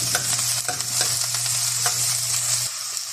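Onions sauté in a hot pan for a ground meat dish, a close, loud continuous sizzle with a low hum underneath and light stirring scrapes.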